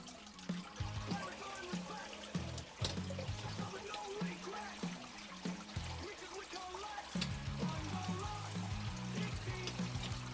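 Water flowing continuously from a setup that has just been started back up, a steady close rush and splash layered over a low mechanical hum.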